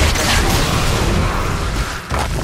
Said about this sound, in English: Orbital cannon.